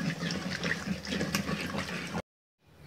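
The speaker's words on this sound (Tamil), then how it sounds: "எண்ணெய் ஊற்றிட்டோம்" Oil pouring into a pan on a gas stove while cooking methi leaves and moong dal gravy, a steady liquid pour that runs about two seconds and then stops abruptly, leaving near silence with a faint hiss.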